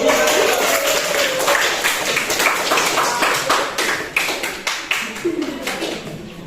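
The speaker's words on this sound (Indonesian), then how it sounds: "Beri aplaus untuk" Classroom applause for a student, a steady patter of many hands clapping close by, slightly uneven and fading toward the end, with some voices underneath.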